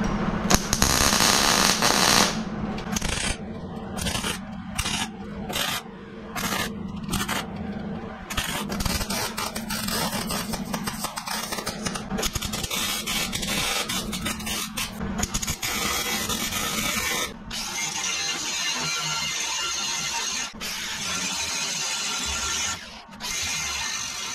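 Welding and grinding on tailgate pieces for a 1952 Willys Overland 4x4 truck: a steady, loud metal-shop roar with crackling bursts and short gaps, continuous throughout with no talk.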